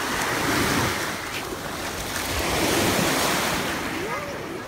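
Sea waves wash onto Chia beach in Sardinia, making a continuous loud roar of surf that swells and eases, with wind buffeting the microphone.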